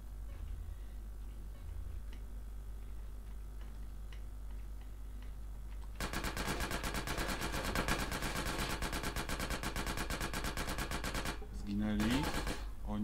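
Rapid game gunfire in GTA San Andreas, a dense stream of evenly spaced shots starting partway through and running for several seconds, loud and close, with quieter game noise before it and a brief break near the end.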